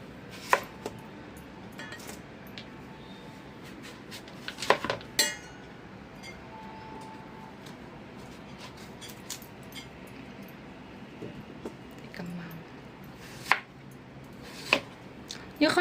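Knife chopping through firm taro on a board, with sharp irregular cuts and small clinks, under faint background noise.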